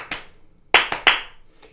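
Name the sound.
hand clapping four claps per beat, skipping the last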